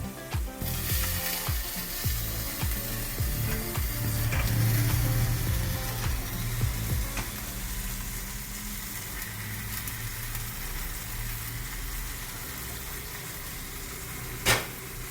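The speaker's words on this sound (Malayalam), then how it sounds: "ഈ റൈസ് നമുക്ക് നന്നായിട്ട് മിക്സ് ചെയ്തെടുക്കാം." A spatula mixes lemon rice in a hot pan, making repeated close scraping and stirring strokes over a steady sizzle. The strokes are busiest early on, then the sizzle carries alone until a sharp clack near the end.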